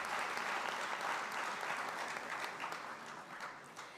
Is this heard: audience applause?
yes